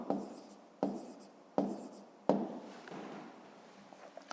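Someone writes an answer on a screen or tablet in four quick, separate strokes, each starting with a sharp tap and trailing off in a soft scratch. Afterward, a few faint ticks are heard with no talking.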